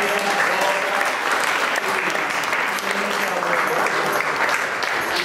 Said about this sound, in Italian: dobbiamo fare un secondo applauso al gruppo di MyDreams.it